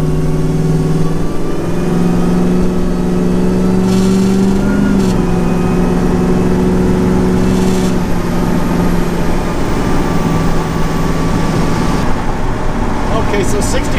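A 1967 Chevrolet Camaro with an LS6 V8 cruising in top gear at low revs near 45 mph, giving a loud, steady engine drone that rises slightly at times, with a voice talking over it.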